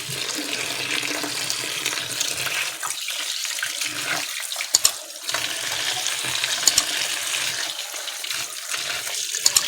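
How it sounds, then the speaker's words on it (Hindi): Beef is washed under running water, a steady splash and gush from the tap with scattered clinks and handling noises, close and continuous. "इस गोश्त को आपने अच्छे तरीके से धो लेना"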